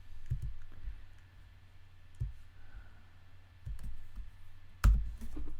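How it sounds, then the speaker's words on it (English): Computer keyboard clicks, a few scattered taps and one sharper louder click near the end, close and sparse in a quiet room. "and we type"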